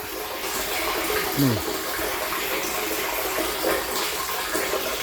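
Water trickles and flows without pause, a steady, gentle stream with a faint whistling tone briefly rising over it.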